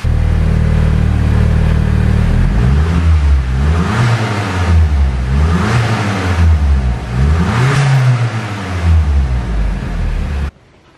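A SEAT Leon Cupra engine revs repeatedly through a new, deep, throaty exhaust, rising and falling in several close, loud pulls before cutting off.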